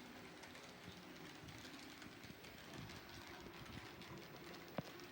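Steady whirring rumble of a Hornby B12 model locomotive with a metal boiler and flywheel running over an express point, continuous and fairly faint with one brief click near the end.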